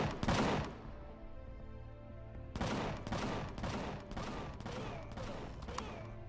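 A cannon turret fires in the space-survival game Empyrion Galactic Survival: one heavy blast at the start, then a pause and a series of about six loud, booming shots at a fairly even rhythm.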